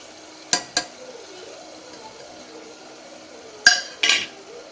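Chickpeas and masala fry in oil in a pan for chana biryani, with a low, steady sizzle broken by four sharp spoon scrapes and clinks against the pan as it is stirred, in two quick pairs.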